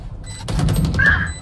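A weapon reloads in a shooter video game, a short run of mechanical clicks and metallic clacks heard up close with no talk.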